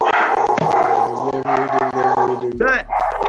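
Dogs bark and growl close by in an outdoor setting, their sounds mixed in under someone talking throughout.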